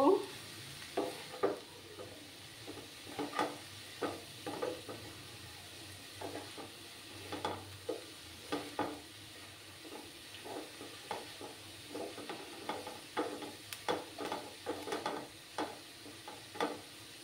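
Red amaranth greens frying in a pan with a pinch of turmeric, stirred so the spatula scrapes and taps in a steady irregular rhythm over a soft sizzle, heard close and fairly quiet.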